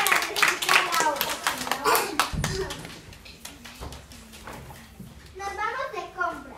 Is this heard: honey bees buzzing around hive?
no